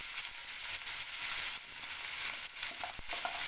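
Chopped onion sizzling in a hot pan of oil, ghee or butter for a lentil tadka, a close, steady crackling fry with small pops, no voices.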